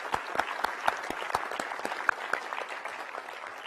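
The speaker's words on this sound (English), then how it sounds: "let's give them all a round of applause" Applause from an audience at a NASA spacesuit unveiling event, scattered moderate clapping with distinct individual claps that thins out toward the end.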